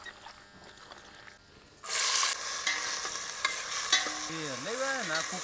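Hot oil sizzling in a pan on a wood-fired clay stove, a steady bright hiss that bursts in and holds loud, with stirring scrapes and a couple of short tonal squeaks near the end.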